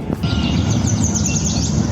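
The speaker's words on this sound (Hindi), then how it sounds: "ये चिड़ियों के चहचहाने की आवाज सुन रहे हैं आप?" Birds chirp and tweet in quick high bursts at a temple garden, a busy chorus over a steady low outdoor hum, with no talking.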